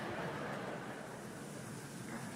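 Large medical school convocation audience collectively buzzing like a giant bumblebee in place of applause, a steady, dense, loud hum of many voices imitating the insect, sustained evenly throughout.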